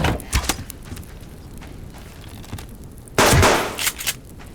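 Gunshots fired in the survival video game Subsistence, a couple of short bursts early on and a louder, dense volley near the end, with quiet stretches between.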